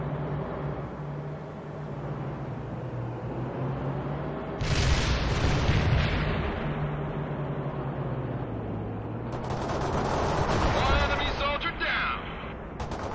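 Units trade gunfire on a battlefield in the strategy game World in Conflict, with booming bursts and rattling shots rising and falling over a steady rumble of vehicle engines, while radio-style voices speak over the action.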